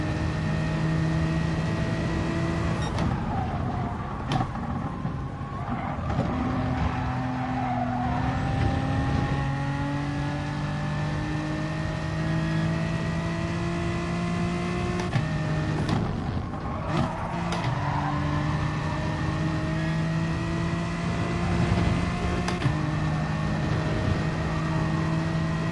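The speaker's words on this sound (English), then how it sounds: "Engine just sounds absolutely terrible." A video game racing car engine revs and shifts through gears, pitch climbing and dropping repeatedly in a continuous, synthetic-sounding drone.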